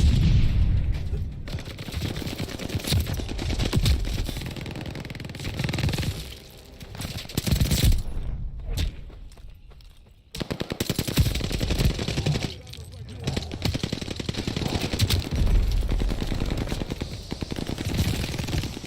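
Welgun submachine gun fire in a video game: dense, loud automatic bursts and rapid shots rattle almost continuously, with brief pauses and booming impacts, mixed with game sound effects.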